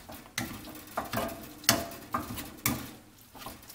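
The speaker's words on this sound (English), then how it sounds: "you just mash until you get some nice creamy beans and they're no longer whole" Refried beans are mashed in a pan, a run of soft, wet squelching thuds and scraping taps in an uneven rhythm, close and fairly quiet, with no speech.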